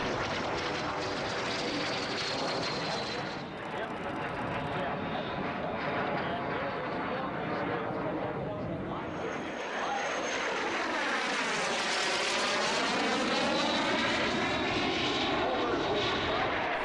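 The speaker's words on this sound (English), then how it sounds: "Also flying a MiG-17 Fresco, TA-4 Skyhawk, Dassault Dornier Alpha Jet, 2 L-39 Albatrosses and a pair of T-33 Shooting Stars." Vintage military jets fly past at the EAA AirVenture Oshkosh airshow, a formation including a MiG-17 Fresco, TA-4 Skyhawk, Alpha Jet, L-39 Albatrosses and T-33 Shooting Stars. The loud, sustained engine roar swells and shifts in pitch as they pass.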